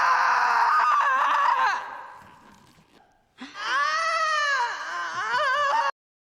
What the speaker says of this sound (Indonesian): Elvira berteriak histeris karena kesakitan yang luar biasa